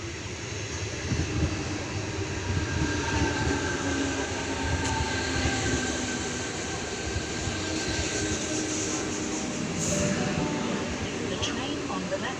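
A Sydney train rumbles and rolls slowly into a platform for a long stretch, with steady wheel and motor noise, squeals and a faint hiss over a constant low roar.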